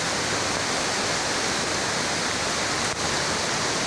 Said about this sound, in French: Sous la pluie, de la très très grosse pluie, donc on parle assez fort puisque bon, il pleut et on est aux cascades d'Ars